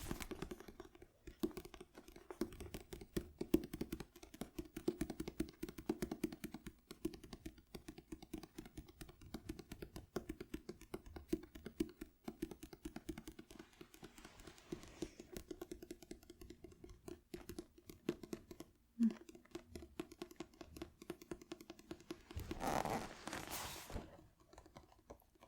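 A pencil scratches across paper in a quiet close-up setting, with soft continuous strokes and small taps running steadily throughout, faint and alone without talk.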